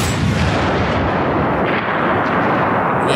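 Sniper gunfire sound effect: a loud, sustained roaring blast that stays dense and forceful for the whole stretch, heard alone with no voices.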